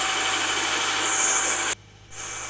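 A motor boat engine roars steadily during a boat race at sea, a loud continuous drone that cuts off sharply near the end and resumes at a lower level.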